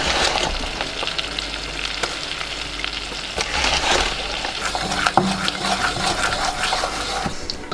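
Butter and gluten-free flour cook in a pan into a roux for bechamel, giving a steady close sizzle and crackle with occasional stirring scrapes and no talking.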